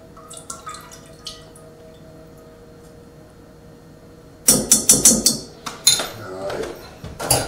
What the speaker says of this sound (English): we're gonna pour this through a strainer to make sure no seeds or any stuff we don't want got in there